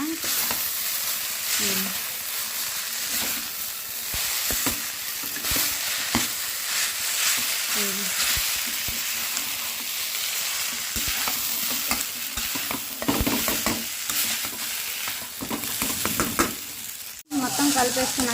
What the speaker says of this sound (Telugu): చిన్నగా హై ఫ్లేమ్లోనే మొత్తం కలిపేసుకోవాలండి